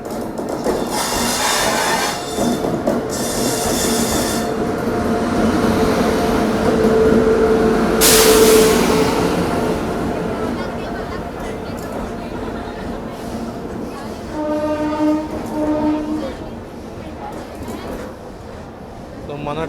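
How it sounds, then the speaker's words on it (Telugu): The Ratnachal Express with LHB coaches pulls into a platform: a steady rolling rumble of the train passing, with clanks and a brief horn-like tone, while someone talks over it. "మన ట్రైన్ అయితే వచ్చేసిందండి"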